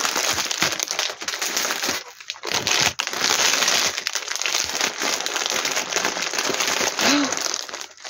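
Continuous crinkling and crushing of plastic packaging, loud and close, with tearing and crackling bursts throughout.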